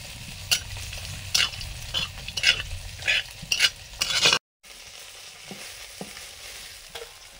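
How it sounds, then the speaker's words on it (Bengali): Poli fish fry in hot oil with a soft crackling sizzle, broken by repeated scraping stirs of a spatula in the pan before a brief cut to quieter frying. "পলি মাছগুলো ভাজা হয়ে গেছে"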